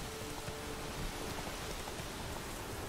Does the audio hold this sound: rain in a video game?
yes